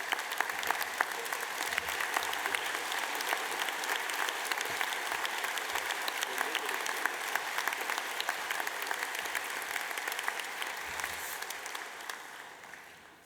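A large graduation ceremony audience, standing to thank families and loved ones, fills the hall with steady, fairly distant applause that runs on evenly for over ten seconds and gradually fades at the end.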